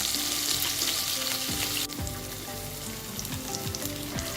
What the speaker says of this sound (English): Turn the piece of salmon over to be fried on the flip side after 1 minute.